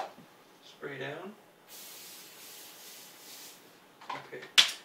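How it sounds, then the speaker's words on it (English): Cooking spray hisses onto a foil-lined baking sheet in one short, even burst, faint and close, with quiet handling noises and a brief crinkle of foil before and after. "I'm going to give it a quick spray"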